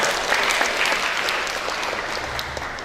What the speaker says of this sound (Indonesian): kita beri tepuk tangan Hilda